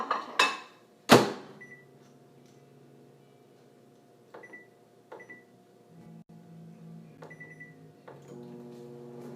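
Microwave oven running while half-melting an ingredient for pumpkin bread, with a loud clunk of the door closing, beeps from the keypad, then a steady low hum of the running oven with a few more clicks and beeps.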